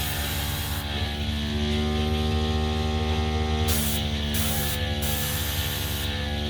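A compressed-air blowing tool for acrylic bloom pouring hisses steadily at close range with a constant hum, its airflow cutting in and out briefly several times.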